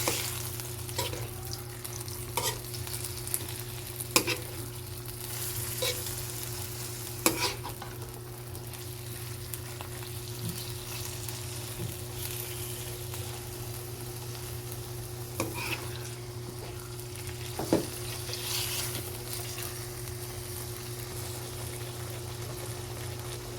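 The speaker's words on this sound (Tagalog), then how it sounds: "Ilalagay na po natin ang ating pork. Haluin lang natin." Pork sizzles steadily in a hot pan with garlic while a utensil stirs it, giving occasional scrapes and clinks over the constant frying hiss, close and alone.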